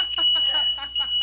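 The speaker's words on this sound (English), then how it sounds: "Fire alarm went off." A fire alarm sounds with a steady high-pitched electronic tone that runs throughout, while people talk close by over it.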